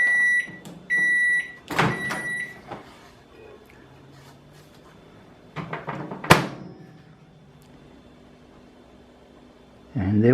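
A microwave oven baking a chocolate mug cake hums steadily, then sounds three bright finishing beeps, followed by door clunks and handling thumps, close and fairly quiet.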